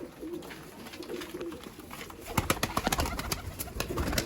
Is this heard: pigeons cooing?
yes